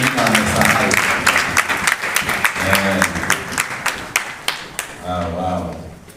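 Guests at an end-of-year party applaud together, a dense run of claps swelling and tapering into distinct separate claps, with talking and a voice over the applause near the end.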